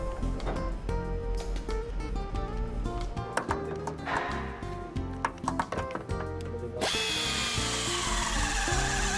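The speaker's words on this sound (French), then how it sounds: "je m'aperçois que je n'ai pas percé la première tôle. Il faut donc ajouter de la profondeur." A power drill bores into welded sheet-metal panels during a car body repair, whining steadily with rattling pulses, then shifting to a harsher, broader grinding tone near the end.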